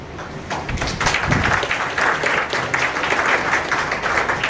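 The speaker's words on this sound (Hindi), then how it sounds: "मंच पर उपस्थित मनीष गुप्ता जी, जोरदार तालियों से हम स्वागत करते हैं सर का।" Loud, sustained applause from an audience welcoming a guest on stage at a government teachers' appointment-letter ceremony, steady clapping throughout with no speech.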